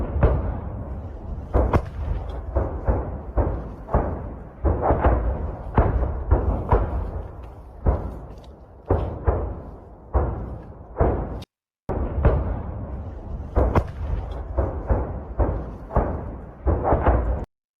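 Explosions on the front line in Bakhmut sound as a dense, irregular series of sharp booms and thuds, some distant, some closer, following each other every second or so with a brief break partway through.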